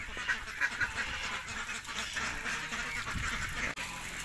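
Ducks quack in the spot where they sleep, with several birds calling in repeated bursts, fairly close, over a steady background.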